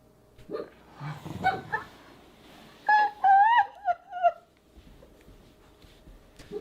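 A dog whimpers and yips in a quiet room, a short run of high, wavering whines and small barks, close but fairly soft.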